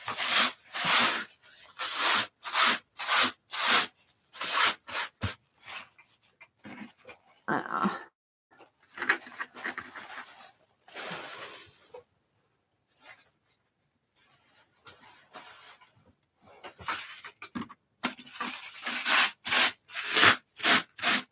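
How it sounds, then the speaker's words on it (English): Dry rasping scrapes come from someone clearing off a craft desk, arriving in rapid bursts with brief pauses, then a quieter stretch and another run of strokes near the end. No one speaks. "Sorry to make the scraping sound here, but I need to clean my desk."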